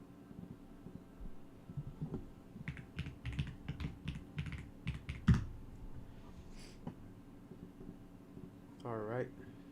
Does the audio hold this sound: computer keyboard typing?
yes